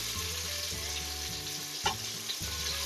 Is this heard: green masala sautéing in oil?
yes